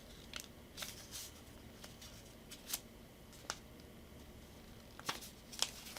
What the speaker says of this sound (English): So now I am going to fold it